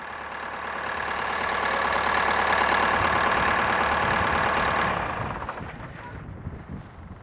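A Kubota LX3310 tractor diesel engine runs at a steady idle, a loud continuous rumble that holds for about five seconds before dropping away to quieter background noise.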